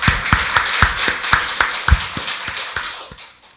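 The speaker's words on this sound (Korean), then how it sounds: "박수로 하나님께 영광 돌리겠습니다." Members of a church congregation applaud during a Sunday worship service, giving sharp, separate claps in a fairly even rhythm for a few seconds before they trail off and fade.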